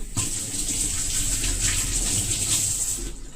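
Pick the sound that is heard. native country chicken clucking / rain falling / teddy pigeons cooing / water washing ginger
water washing ginger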